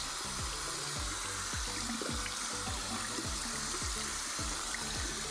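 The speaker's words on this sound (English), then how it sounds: "now we're going to just rinse it out, get all that soap out, get all those lines out" Water runs steadily into a sink as a finished cross-stitch embroidery piece is rinsed under the tap, a close, constant gushing with soft rhythmic sloshes of wet fabric and no talk.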